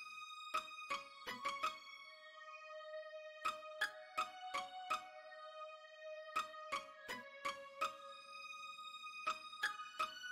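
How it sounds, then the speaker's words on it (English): Pizzicato strings from a Vienna strings library pluck short, bright notes in a sparse rhythmic melody, each with a quick attack and ringing decay, alone and clearly upfront. "I use pizzicato strings and I use the Vienna strings too"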